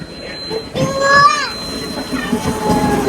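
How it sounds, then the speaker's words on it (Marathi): A train pulls into a station with a rising and falling wheel squeal over a rumbling rail clatter, fairly close, while people talk nearby. "इथे ट्रेन आली प्रचिती."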